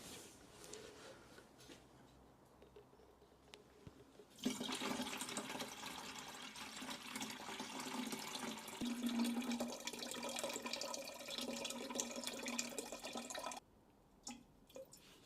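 Engine oil pouring into a container, a steady liquid glug and splash running for about nine seconds, then stopping abruptly, with a few faint clicks afterward.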